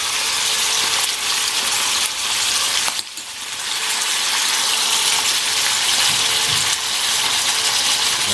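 Chicken legs frying in a pan for a Chinese dish, a steady bright sizzle that continues without pause, close and fairly loud, with a brief clatter partway through and no talk.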